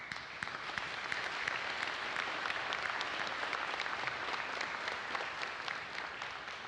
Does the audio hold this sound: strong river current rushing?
no